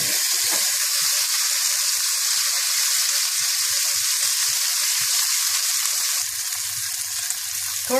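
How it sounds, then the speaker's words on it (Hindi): Onion, whole white cumin and ginger garlic paste sizzling in a pan for moong masoor tarka dal, a steady loud hiss of frying with occasional faint stirring taps, close and continuous. "पिसा हुआ अदरक लहसुन डाल दें और थोड़ा सा भून लें"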